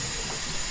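A hose runs water to rinse out an emptied toilet cassette, a steady broadband hiss and splash holding at an even level throughout without pauses.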